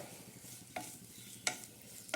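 Grated coconut roasts in a pan with small onions and curry leaves, a soft low sizzle broken by three faint scraping stirs of a spoon.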